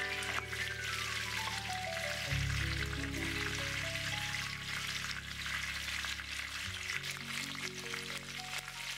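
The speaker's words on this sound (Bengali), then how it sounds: "তেলটা গরম হয়েছে, এবার পটলগুলো দিয়ে ভাজি।" Pointed gourd (potol) frying in hot oil in a wok gives a continuous close sizzle, with a steady hum of sustained tones running underneath and no voices.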